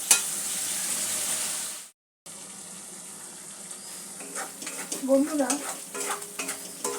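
Spice paste with ginger paste fries in oil for a cauliflower curry, a steady bright sizzle that cuts off briefly, then returns with scraping stirs and soft clinks of a spoon; a voice speaks a single word.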